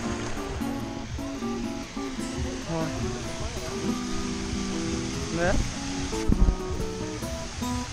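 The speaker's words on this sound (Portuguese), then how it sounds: "Cachoeira bem maior," Waterfall on the Rio dos Bugres in Atlantic Forest in northern Santa Catarina, a steady roaring rush of falling water heard close up throughout, with a brief spoken word and some faint talk over it.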